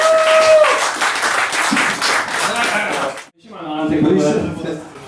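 Audience applause and clapping after a performer is introduced on a Polish talk show, a dense, steady burst of hands that cuts off abruptly, then voices begin talking.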